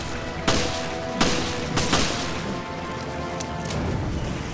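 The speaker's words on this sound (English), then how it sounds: "We're using Parker's gun to take them all out, so it is slightly more powerful" Parker's gun fires in Resident Evil Revelations, three loud separate shots spaced about a second apart, each with a sharp crack and a decaying tail, over a steady low game ambience.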